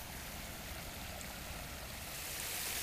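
A 4-foot backyard koi pond waterfall in New Jersey carries about 6,000 gallons an hour, a steady rushing splash heard close and fairly quiet without talk.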